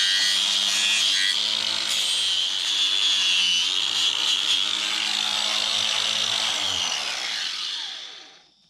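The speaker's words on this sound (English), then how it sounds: "Some of the scale looks pretty loose, so I'm just gonna try and hit it with a brush." A power-driven wire brush grinds loose rust scale off a crusty tandem axle trailer, a loud continuous whirring scrape heard close up that winds down at the end.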